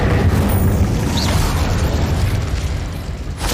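A Confringo spell explosion in Hogwarts Legacy, a loud deep boom with a rumbling tail that slowly fades, followed by a sharp crack near the end.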